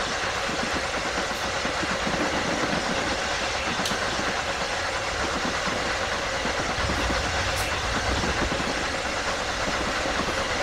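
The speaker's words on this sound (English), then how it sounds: "Train on a bridge." A Bulleid Q1 steam locomotive crosses a bridge on the Somerset and Dorset Joint Railway in Train Simulator, a loud, steady rumbling roar with faint rhythmic clatter and a few light metallic clicks, continuous and without voices.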